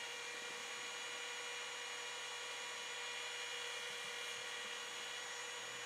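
Steady, harsh scratchy hiss of a wooden sword being sanded with sandpaper, continuous and unbroken at close range with no voices.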